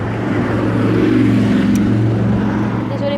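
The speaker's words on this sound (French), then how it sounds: "Il y a une moto" A motorcycle passes on a street, its steady low engine drone holding fairly loud and close throughout, with a voice faintly present underneath.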